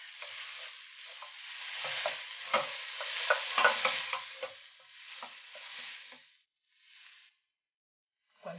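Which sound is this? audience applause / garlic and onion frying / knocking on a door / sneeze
garlic and onion frying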